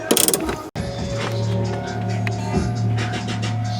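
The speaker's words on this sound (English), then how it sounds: "you have to use an Allen wrench to hold the shock in place while tightening the nut on the threaded part" A nut on a Prius shock absorber's threaded rod is tightened with a wrench while an Allen key holds the shaft, giving close metallic ratcheting clicks and scraping over a steady mechanical hum, with brief speech.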